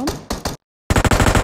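Bursts of automatic gunfire in a multiplayer shooter game, a few loud rapid volleys, a brief silence, then a dense sustained stretch of firing.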